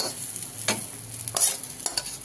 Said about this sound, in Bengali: দিয়ে এবার মিক্সড করবো, ওর সঙ্গে একটু ভাজা ভাজা মতন করবো হালকা করে।